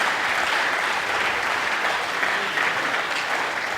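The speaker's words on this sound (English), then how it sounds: "egged on the crowd to applaud a bit more" A crowd applauds at a Premier Squash League match between University of Nottingham and Pontefract. The clapping is steady and dense, a sustained wash of hands that holds at an even level from start to finish.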